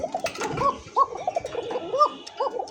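Pigeons coo in a repeated rolling rhythm, several birds close by and fairly loud, with faint chirps in the background; the birds are kept in a pigeon seller's loft and include a female.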